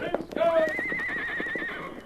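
A horse neighs in an old Western radio drama, a loud rising and falling whinny that stretches over nearly two seconds with faint hoof clops beneath it.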